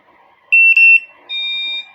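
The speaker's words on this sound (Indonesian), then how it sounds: "klakson bakal bunyi, itu klakson alarm bunyi" A motorcycle's keyless security alarm sounds its horn in short electronic beeps: two quick high tones, then a longer sustained tone, loud and close with no talking.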